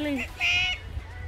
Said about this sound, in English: Listen to him chirp. He's trying to talk to you guys.